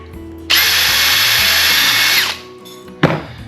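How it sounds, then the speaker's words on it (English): A power drill bores a hole in PVC pipe with a loud, steady high-pitched whir lasting nearly two seconds, then winds down, followed by a short second burst. "Now we need to drill all 12 of our pieces of PVC like that."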